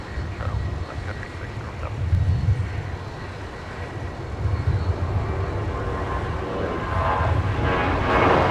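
A Sun Country airliner takes off at snowy, windy Minneapolis–St. Paul airport. Its distant engine roar swells gradually under steady wind buffeting on the microphone, with no talk over it.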